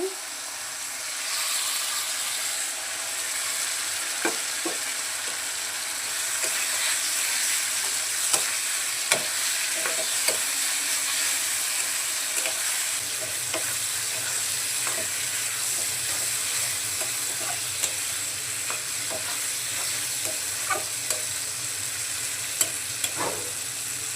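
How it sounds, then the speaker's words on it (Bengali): Pre-fried potatoes and eggplant sizzle in a cooked-down spice masala for a Bengali curry, a steady frying hiss with occasional spatula clicks and scrapes over a long stretch. "মশলা কষানো হয়ে গেছে, এখন ভেজে রাখা আলু আর বেগুনগুলো দিয়ে দিচ্ছি"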